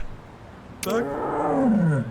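A tiger in the Yakuza: Like a Dragon video game lets out a single loud, close roar that starts abruptly and sweeps downward for over a second.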